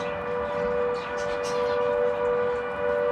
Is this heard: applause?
no